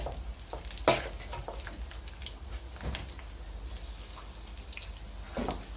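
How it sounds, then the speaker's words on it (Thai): Pork rinds crackle in hot oil during their second fry, a steady, close sizzle with scattered sharper pops. "เป็นการทอดรอบที่สองค่ะ ให้น้ำมันเดือดก่อนนะคะ ให้น้ำมันร้อนๆเลยค่ะ"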